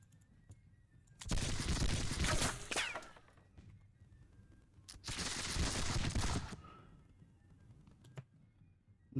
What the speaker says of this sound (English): Just vicious ass volleys.